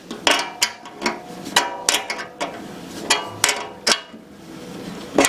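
Wrench tightening bolts on a Powermatic 15HH planer, heard as a series of sharp metallic clicks and taps about every half second, close and fairly loud, with no talk.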